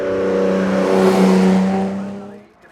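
A Jaguar E-Type race car launches from the line at the Shelsley Walsh hill climb, its engine roaring loud and close with a strong low drone, then fading quickly as it pulls away.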